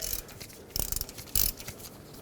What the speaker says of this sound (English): Put a ratchet in there, break this free, remove it the rest of the way.